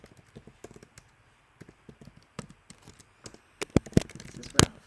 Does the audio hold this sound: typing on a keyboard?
yes